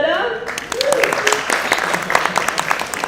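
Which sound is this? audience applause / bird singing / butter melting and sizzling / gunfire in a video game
audience applause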